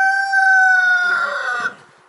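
Several chickens in a poultry enclosure, a rooster crowing one long loud call up close, with softer hen clucking beneath it and trailing off at the end.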